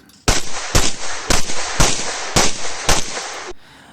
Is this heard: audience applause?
no